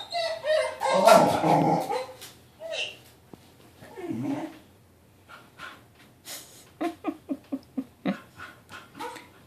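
A dog yips and barks in quick bursts, close by, with a short run of sharp rhythmic yaps near the end and a person speaking briefly over it.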